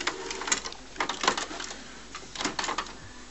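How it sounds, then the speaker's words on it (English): An HP Photosmart D5160 inkjet printer, fitted with a continuous ink system, prints with its lid open. Close by, it gives off intermittent whirring carriage sweeps and soft mechanical clacks in uneven bursts. "I'll leave the lid up for a bit so you can see it printing with the lid open"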